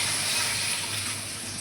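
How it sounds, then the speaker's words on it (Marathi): Water from a rinsed spice-paste jar is poured into a pan of roasting ingredients while making besan vade bhaji, a steady close splashing gush that runs unbroken and alone for under two seconds. "वाटणाचं पाणी पण घालूया"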